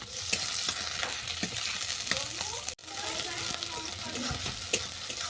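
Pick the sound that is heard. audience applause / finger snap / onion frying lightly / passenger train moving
onion frying lightly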